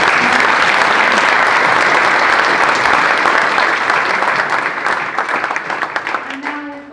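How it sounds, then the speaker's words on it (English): A large audience at a security industry event breaks into loud, sustained applause with dense clapping throughout, gradually thinning toward the end as a few scattered claps and voices remain. "Can I have a massive round of applause?"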